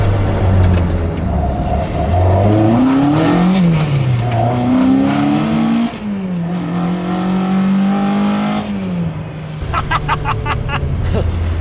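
A Mazda MX5 accelerating hard to 60 mph, the engine climbing through the revs in several rising pulls with brief dips at gear changes, loud and close from inside the car.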